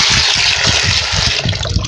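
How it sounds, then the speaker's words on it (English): Water poured steadily onto beans in a container to soak them during village food preparation in Nigeria, a continuous close gushing splash with no talking. "I will soak water and soak the beans for some time."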